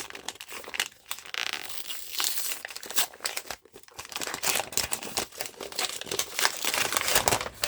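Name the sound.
rustle of brown paper being unwrapped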